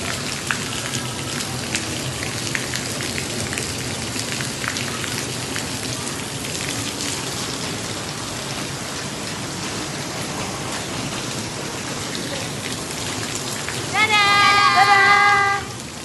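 Steady rain falls on surfaces as an even, dense hiss throughout, with a brief tonal sound rising near the end.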